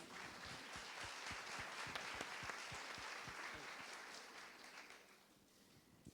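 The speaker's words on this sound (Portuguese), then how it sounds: "Eu acho que merece uma salva de palmas, né?" Applause from an audience at a talk on leadership and professional longevity: steady claps across the room, louder through the middle and thinning to a few scattered claps at the end.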